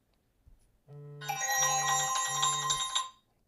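A phone rings after the Colmi P86 smartwatch's find-phone feature is triggered, playing a loud, repeating melodic ringtone for about two seconds with no talking.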